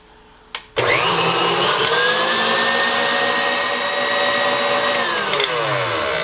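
An electric mixer whips egg white bread dough made with egg white powder, switching on after a short clunk and running as a loud, steady whirring drone with a shifting pitch before slowing near the end.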